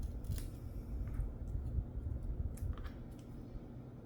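Scissors snip through paper while cutting out heart shapes of three sizes, a series of quiet, irregular crisp cuts close by with no talking.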